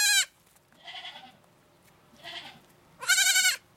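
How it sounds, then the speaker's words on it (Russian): Newborn kid goat bleating on a farm, several loud, close wavering cries with pauses between them and no talking. "Ноча, это не твое дитя кричит, не твое."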